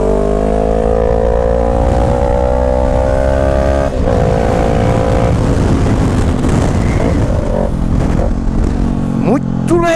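A Honda 500X motorcycle fitted with an Atalla stainless steel 2-into-1 exhaust drones loudly and steadily while riding, its engine note rising and shifting pitch with wind rush, close and continuous throughout.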